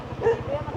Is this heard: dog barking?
yes